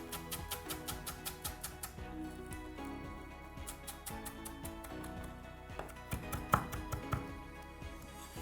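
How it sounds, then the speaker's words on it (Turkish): A knife finely chops parsley for a gurnard fish soup on a board, giving a steady rapid run of crisp, evenly spaced taps close up, with a brief pause and a quicker flurry near the end. "Bunu da şimdi ince bir şekilde doğruyorum"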